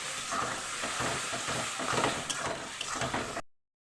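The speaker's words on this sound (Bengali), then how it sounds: "এবার আমি মশলাটাকে ভালো করে কষিয়ে নেব" A paste of ginger, cumin, coriander and green, ripe and dried chillies fries in oil with a thick steady sizzle and repeated scraping stirs, close by, before cutting off abruptly.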